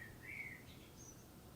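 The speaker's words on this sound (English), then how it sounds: "That's eine Amsel." A Eurasian blackbird sings in a garden, its short, faint, distant whistled phrases rising above quiet outdoor background noise.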